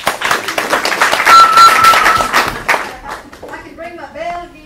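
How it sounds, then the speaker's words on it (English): Group clapping in a classroom for a student, a burst of brisk hand claps that thins out after a few seconds, followed by a voice talking. "let's clap for him"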